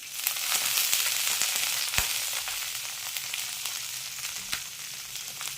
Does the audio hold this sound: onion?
yes